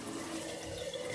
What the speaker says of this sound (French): Je le rince bien.